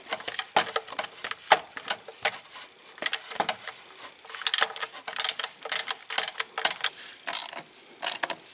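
A hand ratchet clicks in quick bursts while valve cover bolts on a 2016 Ford Escape 1.6 EcoBoost engine are tightened, close and crisp, with short pauses between strokes.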